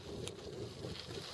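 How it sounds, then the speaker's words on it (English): Gusting headwind buffets a hiker's microphone outdoors, a soft continuous rumble and whoosh with no other distinct sounds. "And the wind's in my face."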